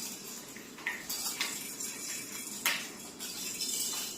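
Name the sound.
spoons being struck together as music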